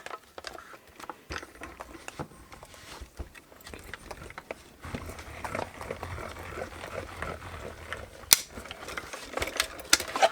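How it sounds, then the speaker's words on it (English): A mini die cutting and embossing machine is cranked to cut papercraft for a tall gift box, giving a steady run of quiet ratcheting clicks and mechanical grinding with no talk. "And then through my little mini cut and emboss."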